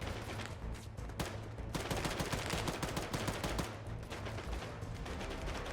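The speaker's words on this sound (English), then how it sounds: "A bit of gunfire." Gunfire in a military video game: rapid, dense bursts of shots crackle continuously at moderate level with no talk.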